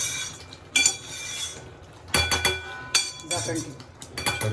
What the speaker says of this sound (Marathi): झाकण ठेवायचंय.